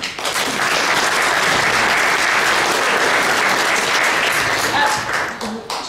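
Audience applause fills a church hall at an attorney general candidate forum at Grace Lutheran Church, a dense, steady wash of clapping close by that holds for nearly six seconds before tapering at the end.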